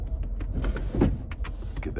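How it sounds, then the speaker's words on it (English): Electric motor whir of a 2015 Mercedes-Benz G63 sunroof opening, a short mechanical hum inside the cabin with faint clicks and rustling. "Let me see if I can open the sunroof."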